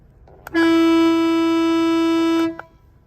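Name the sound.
car air horn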